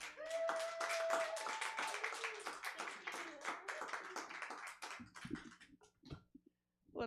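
A comedy club crowd in Sacramento claps to welcome comedian Tina San Lucas to the stage, brisk applause with a few whoops that thins out and fades into scattered claps near the end.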